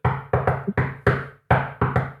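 Knuckles rap on an apartment door in a rhythmic pattern copying the Koh-Lanta theme tune, seven sharp close knocks in uneven groups with a short pause midway.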